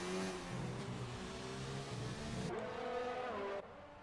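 A Formula 1 car engine in the F1 2019 racing game at the Russian Grand Prix, a high, steady whine with quick gear-shift pitch changes, heard alone and fairly close.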